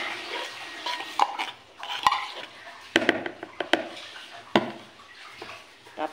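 Tamban fish being mixed by hand with ground pork in a bowl, soft squelching and stirring with intermittent clinks of utensil against dish, close and fairly quiet.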